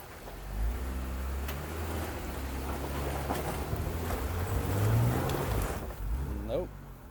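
Jeep on Milestar Patagonia M/T mud tires spinning on a muddy hill, a continuous loud engine roar and churning wheel noise throughout, with a voice speaking partly underneath.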